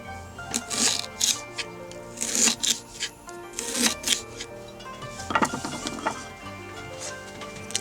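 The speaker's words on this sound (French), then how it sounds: "Coupez 50 g de gingembre." A knife cuts 50 g of ginger on a board, giving a series of close, sharp chopping knocks in irregular bursts, no voices.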